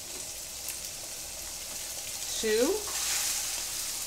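Red snapper fillets sizzle in hot canola or peanut oil in a pan, a steady broad frying hiss that swells briefly as a fillet goes in, with a couple of spoken words.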